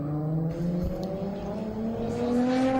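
A VQ-engined Nissan 350Z drifts at a pro-am qualifying event, its engine holding a steady, loud, rising drone with faint tire noise underneath.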